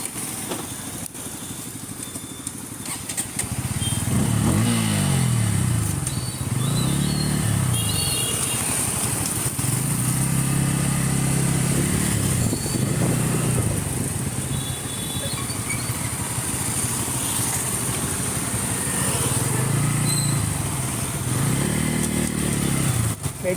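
A 150cc motorcycle rides along with a steady engine drone and rhythmic rising-and-falling revs, fairly close, with a loose clutch; wind and road noise run underneath.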